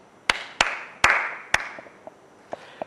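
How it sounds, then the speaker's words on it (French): A few sparse, distinct handclaps from an audience greeting a film director, sharp separate claps spaced about half a second apart, then fading into softer scattered taps. "Je vous demanderai d'applaudir Dublovska."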